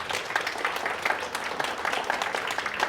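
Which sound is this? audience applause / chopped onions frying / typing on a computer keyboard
audience applause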